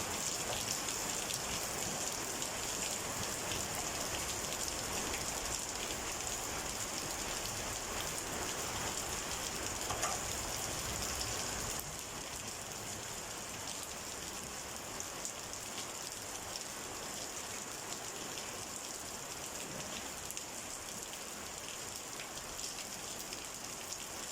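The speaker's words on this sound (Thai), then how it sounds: "ตอนนี้ฝนก็เทลงมาแล้วพี่น้องครับ" Heavy rain pours down outdoors, a loud, steady hiss of drops that keeps on for the whole stretch with no break and no voices. It eases only a little partway through.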